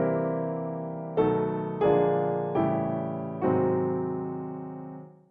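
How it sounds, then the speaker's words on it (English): Piano chords ring out one after another, five sustained dominant seventh chords descending chromatically, each struck cleanly and left to decay. "Supposing we simply want to play one dominant 7 chord after another going down chromatically."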